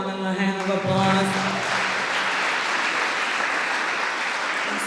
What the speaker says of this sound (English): Give yourself a round and a hand of applause.